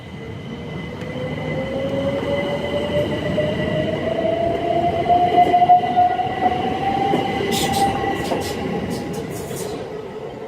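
An Electrostar electric train runs steadily past at Gillingham with a rising motor whine and rumbling wheels, loud and close, ending with sharp clicking over the rails.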